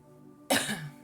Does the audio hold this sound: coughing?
yes